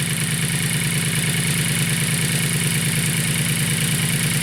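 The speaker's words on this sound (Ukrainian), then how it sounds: "Якось так приблизно працює двигун." A VW Polo 1.2 AZQ car engine with a new timing belt kit idles steadily up close, a continuous rhythmic chugging with a faint clatter, unchanging throughout with no voices.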